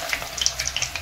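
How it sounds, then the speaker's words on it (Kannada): Raw banana slices go into hot oil with a bright, crackling sizzle. The hiss is steady and close, scattered with sharp pops, and no voices are heard. "ಎಣ್ಣೆ ಕಾದಿದೆ. ಕಟ್ ಮಾಡಿ ಇಟ್ಟಿರುವಂಥ ಬಾಳೆಕಾಯಿನ ಹಾಕ್ತೇನೆ ಇದ್ರೊಳಗಡೆ."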